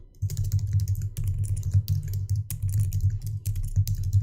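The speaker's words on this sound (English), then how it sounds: "my typing is terrible." Fast, uneven typing on a computer keyboard, a dense run of close clicks and clatters with brief pauses, steady and near, with no talking.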